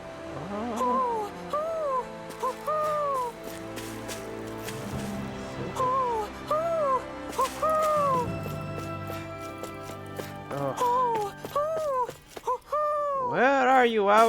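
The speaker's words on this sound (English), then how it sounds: "Where are you, owl?" An owl in the video game Tales of Arise gives repeated, wavering hoots over layered game music and ambience, recurring through the passage and growing busier toward the end.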